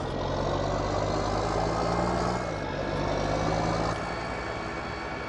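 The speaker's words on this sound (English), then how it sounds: "I like the sound of this tractor." Video-game tractor engine from Farming Simulator 19 with a turbo whine, a loud steady drone with a sustained tonal hum and a slight pitch shift partway through, with no talk.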